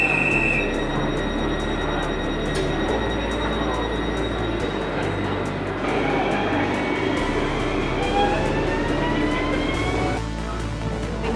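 Steady rumble of a train rolling along rails, with high metallic wheel squeals rising and falling throughout, loud and close.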